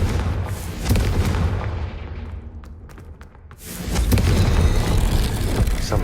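Deep booming blast from a Confringo fire spell in Hogwarts Legacy, a heavy explosion that fades and then erupts again with a second loud rumbling burst.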